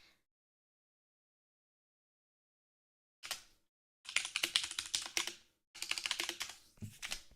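Clicky mechanical keyboard typing recorded close on a binaural microphone, starting after about three seconds of silence as a brief burst, then longer runs of rapid, dense key clacks with short pauses between them.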